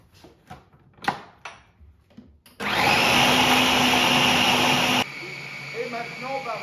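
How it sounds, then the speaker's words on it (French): A blender whirs loudly and steadily for a few seconds, purees fish mousseline with herbs, then drops to a lower hum after speech and clatter at the start. "On va commencer à mixer."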